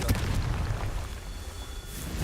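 A Confringo blasting spell exploding in Hogwarts Legacy, a deep rumbling boom with a crackling burst at the start that fades into a low, sustained roar, loud and close with no talk.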